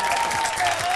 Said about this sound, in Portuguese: vamos aplaudir o nosso Papai Noel